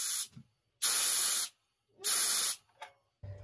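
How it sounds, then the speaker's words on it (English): A keg is purged with CO2 gas from a pressure fermentation setup: two sharp, loud hissing bursts of about half a second each, with shorter faint puffs around them and silence between. "If there is a little bit of headspace left in the tank or you're not sure it's filled up to the top, just give it a quick purge with CO2."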